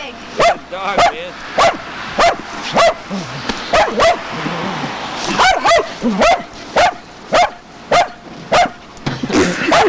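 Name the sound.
dog barking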